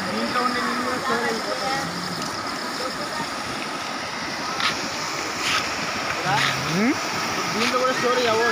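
Floodwater rushes across a damaged road in a steady, loud broadband roar with splashing surges, while faint voices murmur underneath.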